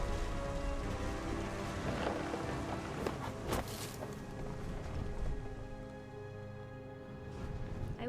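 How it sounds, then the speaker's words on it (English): Heavy rain pours steadily in the What Remains of Edith Finch video game, with rolling thunder cracks swelling in the middle of a continuous, loud downpour. "The thunder sounded much too close and full of angry power."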